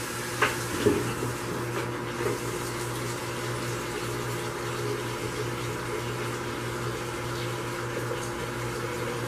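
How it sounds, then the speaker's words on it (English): Water runs steadily from a tap into a soap-making container, a continuous rushing splash with a few clunks of handling at the start. "Alright, let's rinse this out."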